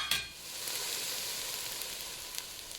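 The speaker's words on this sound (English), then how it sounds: "I'm going to get these stirred up, and I'm going to cook this for about 4 minutes" A pot of potatoes, carrots, onions, garlic, habanero and jalapeno cooking without oil gives a soft, steady sizzle as it is stirred, with a brief clatter at the start and no talking.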